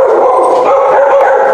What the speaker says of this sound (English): Then our dog barks.